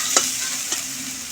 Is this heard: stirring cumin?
yes